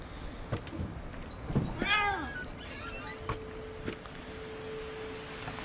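A cat meows once in the video game What Remains of Edith Finch, a short rising-falling call heard against a steady ambient game background with faint clicks.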